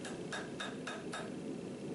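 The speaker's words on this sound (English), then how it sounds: "I take it back to the anvil at a lower heat and start shaping the axe head." A forge-welded tomahawk head, made from a farrier's rasp, is hammered on an anvil at lower heat: five evenly spaced metallic strikes ring out faintly over a steady roar of forge noise.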